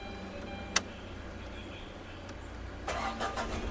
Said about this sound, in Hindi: स्टार्ट गाड़ी